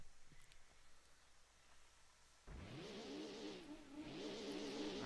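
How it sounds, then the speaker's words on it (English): A car engine in Gran Turismo 2 starts after a quiet stretch and revs up and down twice, loud and close, with rising and falling pitch sweeps. "I do not like that engine sound"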